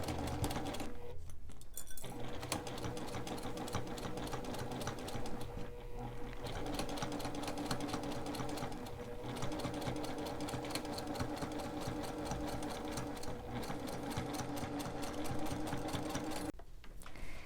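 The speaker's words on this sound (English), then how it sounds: "then we'll go ahead and sew this seam" A sewing machine stitches a quarter-inch seam on a rag quilt, its rapid mechanical needle chatter running steadily and close, broken by a few brief pauses.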